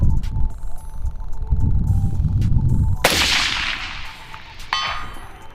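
A Primary Weapons Systems MK116 Mod 2 rifle fires at a target around 400 yards away: a sharp shot cracks out, then a faint metallic ring from a distant steel plate follows and trails off in the open air.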